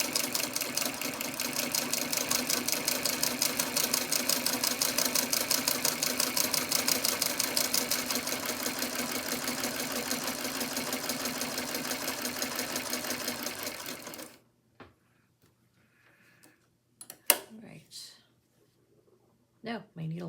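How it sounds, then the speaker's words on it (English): A Singer 27 sewing machine runs a fast, even stitching rhythm for about fourteen seconds, then stops, leaving a few faint handling clicks and taps. "we'll at least do a little bit of test stitching just to make sure that everything is threaded and put back together correctly."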